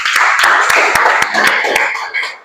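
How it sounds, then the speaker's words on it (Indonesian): Classroom of students clapping hands together in a steady run of sharp, close claps with a busy murmur of voices underneath, tapering off at the end. "Oke, tepuk tangan semua."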